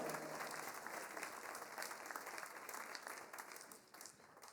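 Concert audience applauding musicians at an autumn wind band concert, a dense sustained roar of many hands clapping in a hall, holding strong then gradually thinning toward the end.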